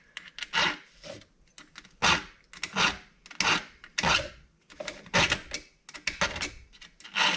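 A hand file rasps across the teeth of a chainsaw chain in short, rhythmic strokes, about a dozen close, crisp scrapes with brief gaps between them.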